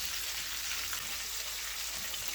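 Large chicken wings deep-fry in hot oil, giving a steady, dense crackling sizzle that stays even and close with no pauses.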